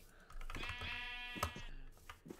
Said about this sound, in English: Diego, I'm gonna quickly breed up your sheep